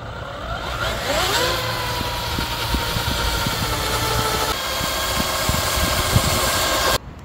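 An FMS FCX10 RC crawler in first gear with four-wheel drive and all diffs unlocked, a steady loud electric motor and gear whine that rises in pitch early and holds, cutting off abruptly at the end.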